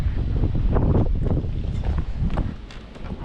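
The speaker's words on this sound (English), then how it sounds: "I don't know why it has to be so windy all the time" Strong wind roars and buffets against the microphone on a small dairy farm, a continuous rumbling gust, easing slightly near the end.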